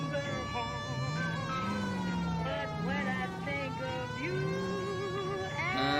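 Police car siren from the L.A. Noire video game, a continuous loud wailing that rises and falls throughout, with overlapping siren tones and game engine noise beneath.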